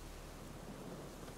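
Rain and a low rumble of thunder in a storm in the video game The Witcher 3: Wild Hunt, a steady faint hiss of rainfall with a soft, dull rumble beneath.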